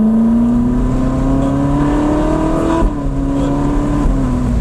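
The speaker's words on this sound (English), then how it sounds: "I like to let a car rev high." A supercar engine revs high on a race track, its steady rising whine climbing continuously for several seconds, loud and close, with a brief dip near the midpoint as it shifts before pulling again.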